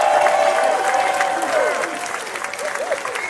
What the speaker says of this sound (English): Give a round of applause for Tariq.